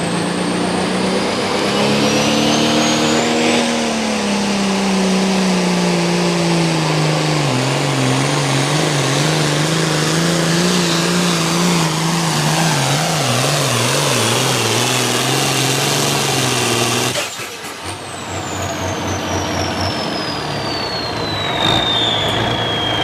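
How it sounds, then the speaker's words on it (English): A John Deere pulling tractor at a truck and tractor pull roars loud and close, its engine revving and climbing in pitch as the turbo spools up with a rising whine, then briefly cutting back before surging again. "getting that turbo spooled up, bringing up the RPM."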